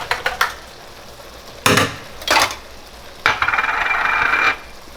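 A utensil stirring confit garlic into sauce in a pan, several short scraping strokes with a faint sizzle beneath, then a longer sustained stir, close and clear with no talk.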